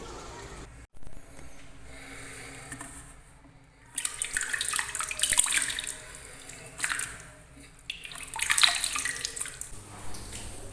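Water running and splashing as torn recycled paper is soaked for making fake aquarium stone, starting quiet with soft trickles and swelling into louder bursts of gushing around the middle and near the end.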